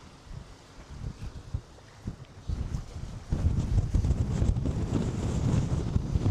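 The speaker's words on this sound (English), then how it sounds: "I hope you can hear me by the way, because this wind's kicking up." Gusty wind buffeting the microphone in low rumbling bursts in Argostoli, Kefalonia, growing stronger and more constant partway through, with no voices.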